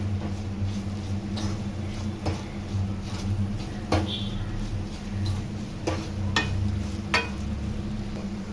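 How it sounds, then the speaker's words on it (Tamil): Masala for kuzhambu sautéing in a pan, a steady low sizzle with occasional sharp clicks and scrapes from stirring, fairly close and continuous. "நல்லா அந்த பச்சை வாசம் போகிற வரைக்கும் கொஞ்சம் வதக்குங்க."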